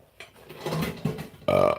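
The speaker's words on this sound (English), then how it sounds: "Another burp." A man's loud burp after eating pie, one long rough belch swelling out of quiet room tone, then a second short, louder burst at the end.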